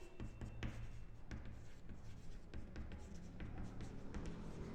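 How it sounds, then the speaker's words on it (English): A pen scratches across paper as accounting entries are written during a class. It gives close, faint strokes with irregular taps and pauses against a quiet room. "So I'll write here."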